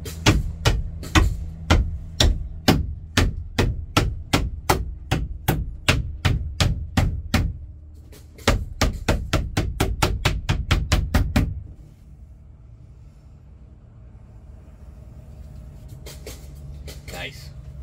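A construction crew hammering while putting on a roof: rapid series of sharp, loud hammer blows in quick bursts, pausing, then another fast run of strikes before fading into background rumble and distant knocks.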